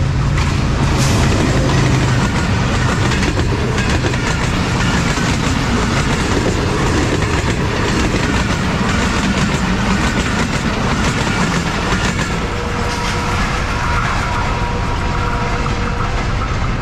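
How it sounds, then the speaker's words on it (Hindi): The Awam Express passenger train passes through Emanabad railway station at speed, a loud continuous roar of wagons with clickety-clack wheel beats running throughout. "मैक्सिमम जो है वो 82 की स्पीड अचीव की अवाम एक्सप्रेस ने।"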